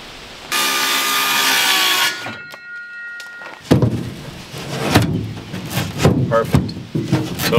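Power saw shaving about a quarter inch off a wooden jon boat rib: a loud steady whining cut for about a second and a half, then a quiet pause with a faint ringing tone, then thumping and handling noises as the wood is moved.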